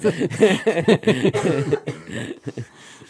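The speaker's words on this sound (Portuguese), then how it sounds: "estou aqui no meio de um ataque de tosse" Repeated bursts of coughing during a coughing fit, close and fairly loud, coming in a rapid irregular series that trails off near the end.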